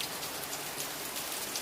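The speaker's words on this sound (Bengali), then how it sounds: "বাজারে অনেক বৃষ্টি হচ্ছে" Heavy rain pours down steadily in a market area, a dense, even hiss of drops with no pauses, faint and continuous.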